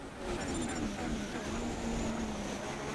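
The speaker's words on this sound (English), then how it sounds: "kind of growl of that Honda engine coming out the pit lane" Honda Formula 1 engine in the F1 2016 racing game, growling as the car leaves the pit lane at the United States Grand Prix during qualifying; a steady, loud engine drone fills the whole stretch with a fairly even pitch.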